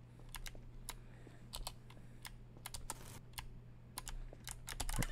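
Computer keyboard keys pressed in irregular bursts of sharp clicks during a Garry's Mod game session, close and alone without speech.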